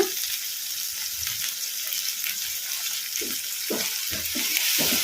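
Garlic paste fries over a medium flame with softened tomatoes for a soya chunk masala curry, making a dense, steady hiss with a few soft stirring knocks near the end.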